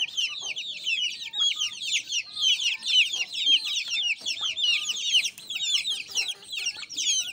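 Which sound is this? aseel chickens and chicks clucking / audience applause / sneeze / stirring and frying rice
aseel chickens and chicks clucking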